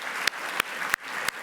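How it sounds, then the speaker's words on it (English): Audience applause at a community foundation annual meeting: a steady, even wash of clapping from a seated crowd, broken by a few sharp louder claps over a short stretch. "let's clap for that"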